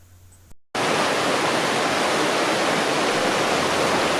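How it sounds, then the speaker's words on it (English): A mill water wheel on a river in full spate after persistent rain in Eskdale: a loud, steady, broadband rush of churning water starts abruptly after a brief quieter moment and continues unbroken. "we spot a water wheel driven by the La'al Ratty, which is in full spate after the recent persistent rain"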